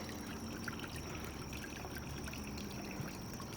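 A small backyard pond waterfall fed by two buckets trickles and splashes steadily, a constant close wash of running water with no voices.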